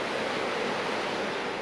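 A rushing river flows beside a hot spring pool in Iceland's Westfjords, a steady, dense broadband roar of moving water that holds constant and close throughout, with no voices.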